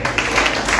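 A church congregation claps together in worship, a dense, steady wash of many hands close by, with faint voices mixed underneath.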